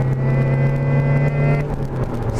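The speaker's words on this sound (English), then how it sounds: "Third gear, bringing it up to 50 miles an hour." A Honda Civic pulling hard in third gear up to 50 mph, a loud steady engine drone with a rising hum that carries through the whole stretch, with no talk.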